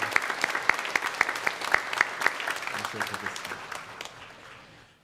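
A church congregation at a Sunday worship service applauds a visiting missionary, with crisp distinct claps over a crowd patter that thins and fades out, while a voice speaks underneath toward the end.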